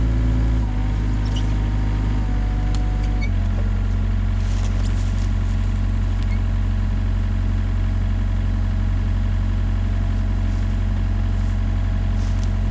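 A tracked machine's engine runs during land clearing. It is a loud, steady, low drone that drops to a lower, calmer pitch after about three seconds as the throttle eases, with no talking.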